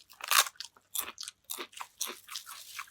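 Close, crisp crunching bites and chewing of a thin, crispy crepe-like snack with chicken and coriander, several irregular bursts with brief pauses, no talking.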